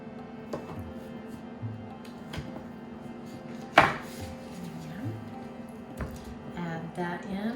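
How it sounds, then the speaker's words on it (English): A knife cuts plant-based sausage into pieces on a board, with a few soft taps and one sharp knock over a steady background hum, while a person talks. "I'm going to take my plant-based sausage and just cut it up into about inch wide pieces."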